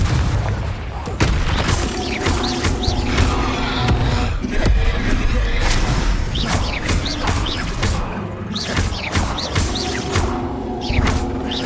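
Confringo fire-spell blasts in Hogwarts Legacy, a continuous barrage of booming explosions and crackling impacts layered with whooshes and shouted spell voices, loud and dense throughout.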